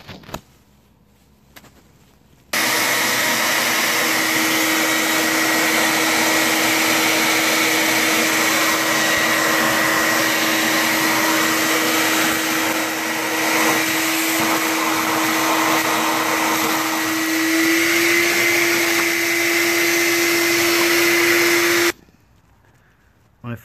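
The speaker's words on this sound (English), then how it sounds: "I'm going to vacuum that up." A vacuum cleaner runs steadily and loudly for about twenty seconds, with a constant drone and whine, while cleaning around the wiring of a John Deere STX46 lawn tractor riding mower. It cuts off abruptly at the end.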